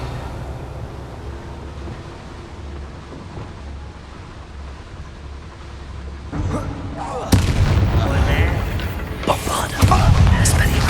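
A Bombarda explosion spell goes off in Hogwarts Legacy. A low rumbling buildup leads into a loud, close blast at about seven seconds, followed by more booming bursts and debris clatter.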